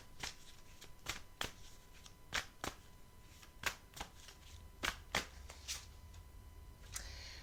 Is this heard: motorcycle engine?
no